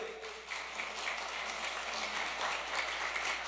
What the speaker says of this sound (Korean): 여러분을 위해서 한번 박수 안 치실래요?